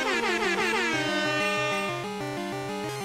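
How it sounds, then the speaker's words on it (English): Comedic air horn blasts edited over Pokémon Crystal gameplay, loud stacked horn tones in a repeating stepped pattern that fill the whole stretch. "I may end up editing some air horns onto that, just because it's funny."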